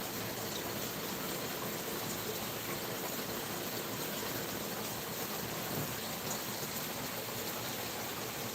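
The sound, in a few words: creek water flowing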